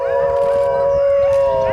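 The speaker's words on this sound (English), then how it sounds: "wolf, howl," A wolf gives a sustained, steady howl at a fairly even pitch that carries loud and close throughout, with faint rougher texture underneath.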